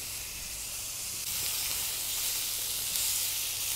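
Beef burger patty frying in a hot pan with flakes of butter, giving a steady, loud, close sizzle and hiss that runs the whole time without talk.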